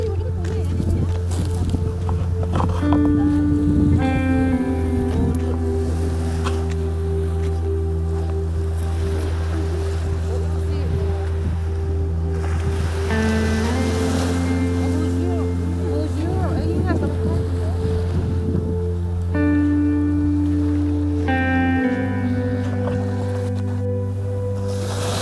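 Ocean waves and wind at Bodur beach on Tanjung Lesung, a steady wash of surf with a low engine-like drone underneath and voices talking throughout.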